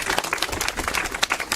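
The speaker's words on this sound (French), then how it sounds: "on vous applaudit aussi, bravo" Outdoor applause at a street-naming inauguration ceremony in Dol-de-Bretagne, a brief burst of close, uneven hand clapping from a small gathered crowd.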